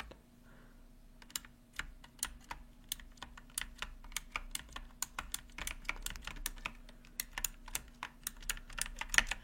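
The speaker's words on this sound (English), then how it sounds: "But this is my keyboard." Close, crisp keystrokes on a computer keyboard, tapping in an irregular, quickening rhythm over a quiet background hum.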